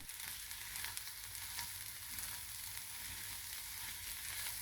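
Chopped leeks cook gently in heated oil for a broccoli and cheddar frittata, giving a steady, soft sizzle that holds evenly throughout with faint crackles and no talking.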